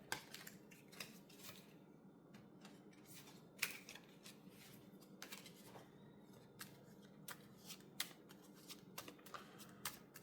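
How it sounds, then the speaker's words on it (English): Quiet riffling and snapping of playing cards being shuffled, a series of crisp bursts up close with soft pauses between. "I'm just going to do a quick shuffle."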